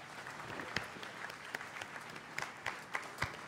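Audience applause for the singer at a live concert, a steady wash of clapping with a few sharper claps standing out, moderately loud throughout.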